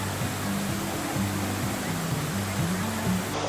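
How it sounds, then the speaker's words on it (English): A huge waterfall in the Great Smoky Mountains near Smokemont Campground roars as a steady, broadband wash of falling water, constant and enveloping, with a low hum and faint tonal murmurs beneath it. "This is a huge waterfall. You can hear it from a long ways off"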